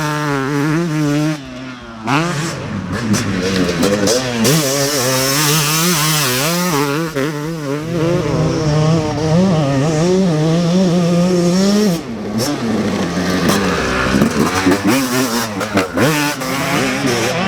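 Yamaha YZ125X and YZ250X two-stroke dirt bikes ride a grass and motocross track, their engines screaming loud and close as the revs rise and fall through gear changes, with brief dips where the throttle is chopped.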